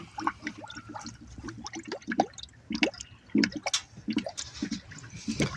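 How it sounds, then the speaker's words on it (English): Air bubbling out of a Ford Ranger's coolant system during a thermostat replacement: rapid gurgling and gloopy popping of liquid, irregular bubbles bursting close up, with dripping and sloshing throughout. "There's the air coming out of it."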